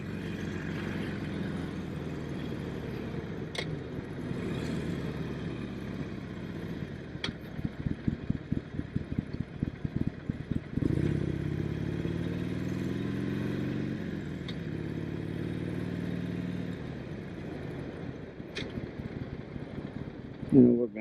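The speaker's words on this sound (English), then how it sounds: "Just cruising on my motorcycle." A motorcycle cruises steadily along, its mid-pitched engine droning continuously with a brief rhythmic pulsing burst partway through and wind rush, close and fairly loud throughout.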